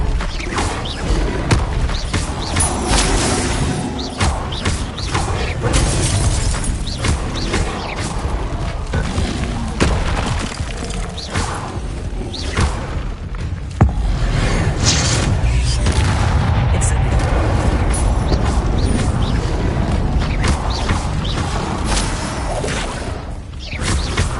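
Magical spell effects from Hogwarts Legacy, Incendio and Leviosa casts, fill the stretch with loud continuous booms, whooshes and mechanical rumbles; a brief burst near the middle leads into a sustained dense roar.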